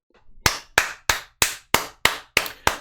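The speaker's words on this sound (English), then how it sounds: "A round of applause for this woman, ladies and gentlemen." A single person claps slowly and evenly, about eight sharp, close claps spaced roughly a third of a second apart, with no talk.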